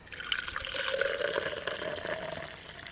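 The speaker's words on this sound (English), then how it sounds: "I'm just gonna pour the whole thing into here." Coffee poured into a small cup at a solo campsite outdoors, a steady close liquid stream running for about three seconds with no talking.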